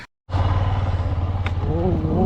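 A scooter carrying three riders climbs a hill road in the Vanjangi hills near Araku. Its engine starts up abruptly after a brief silence and then hums and chugs steadily nearby, with a voice heard over it.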